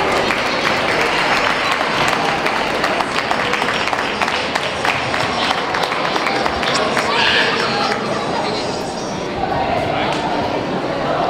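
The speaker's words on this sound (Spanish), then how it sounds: "Ese fuerte aplauso, por favor" An audience applauds at a carnival costume contest stage on Piñata Sunday, sustained loud crowd clapping with cheering and chatter throughout.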